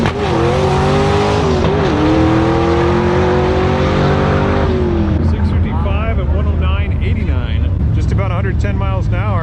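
An old twin-turbo Ford truck with long wheelie bars launches down a drag strip, its loud engine note rising steadily for several seconds before the harmonics break up as it pulls away. Tires squeal and a crowd chatters over the engine throughout.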